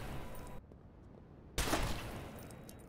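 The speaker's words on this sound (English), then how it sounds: "I want to try out my sniper rifle" A sniper rifle in Watch Dogs fires a sudden loud shot after a quiet stretch, its blast tailing off into game ambience.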